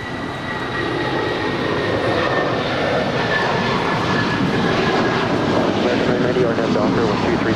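Boeing 757-300 airliner at LAX, a loud, continuous engine roar with broadband rumble and faint whining tones, steady throughout and close by.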